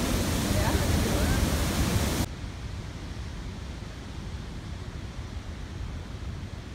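Rushing river water, where salmon need to run upstream, roars as a dense broadband wash, very loud at first, then dropping abruptly to a softer but still continuous flow.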